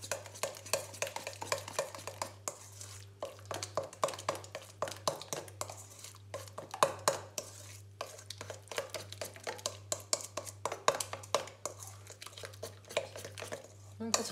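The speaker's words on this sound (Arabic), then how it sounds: "غنخلط هاد المكونات مزيان" A mix of ingredients and an egg for a crispy fried-chicken coating being stirred by hand in a bowl, with steady soft clicks and scrapes over a constant low hum.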